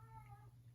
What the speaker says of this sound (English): that's my cat, he's annoyed that I kicked him out.